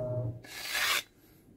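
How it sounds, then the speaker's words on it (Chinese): A saw is ground on an emery (carborundum) whetstone to turn it into a kitchen knife: a single close, harsh rasping stroke lasting about half a second, then quiet. "我们也是可以透过这个金刚砂的这个磨刀石啊来将它磨成一把菜刀"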